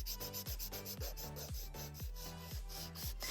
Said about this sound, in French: on peut un tout petit peu limer comme ça